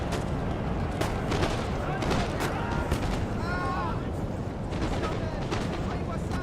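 Musket volleys crackle and pop throughout a Napoleon Total War online battle, scattered shots and rolling fire mixed with battlefield din while a player talks over it.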